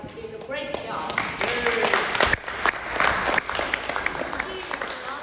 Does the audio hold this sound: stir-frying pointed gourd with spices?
no